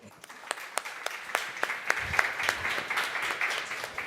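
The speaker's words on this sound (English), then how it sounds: "Please give a round of applause to them." Conference audience at a blockchain event applauding, with sparse distinct claps at first that thicken into fuller, steady clapping from a moderately sized crowd.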